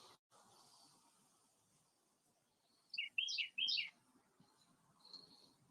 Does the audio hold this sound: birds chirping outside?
yes